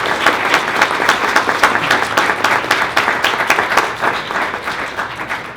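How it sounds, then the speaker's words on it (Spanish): An audience at a national art museum gives a big round of applause for the museum staff, loud and close, with crisp individual claps rippling through a dense, steady ovation that eases slightly toward the end. "un gran aplauso al equipo de museo"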